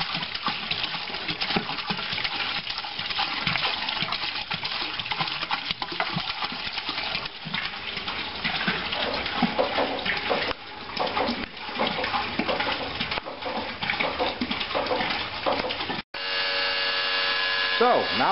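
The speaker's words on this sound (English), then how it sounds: "we're pumping it using our trusty pump" Blended Syrah wine is pumped into containers, producing a continuous watery churning and gurgling flow alongside a pump's hum, with a short break near the end before the sound resumes.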